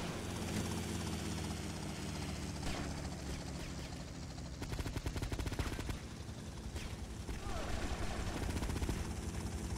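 Helicopter in the GTA Vice City video game: a steady loud rotor whir fills the scene, with rapid gunfire bursts crackling over it midway and a busy game soundscape throughout.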